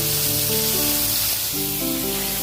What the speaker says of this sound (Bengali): সেই তেলে ফার্স্টে আমি মাছগুলো ভেজে নিচ্ছি।